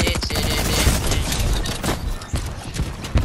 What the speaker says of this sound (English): Oh no! I'm being shot at.